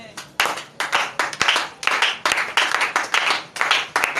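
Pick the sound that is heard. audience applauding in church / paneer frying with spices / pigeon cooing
audience applauding in church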